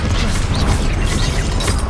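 A Confringo fire spell blasts in the Hogwarts Legacy video game: a dense, loud, crackling roar with booming low end that rumbles steadily for about two seconds.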